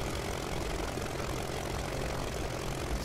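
Airship engines and propellers in the game Worlds Adrift hum as a steady, dense broadband drone that stays loud and even throughout, with no speech.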